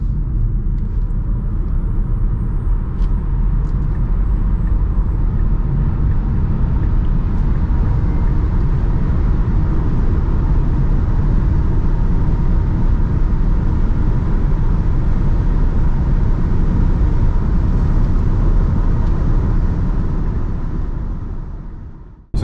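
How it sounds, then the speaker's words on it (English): Tesla Model Y Dual Motor Long Range accelerating hard on the autobahn, heard from inside as a loud, steady roar of road and wind rumble that builds and holds for about twenty seconds, with no talking. "So you guys saw the acceleration of the Tesla Model Y dual motor long range."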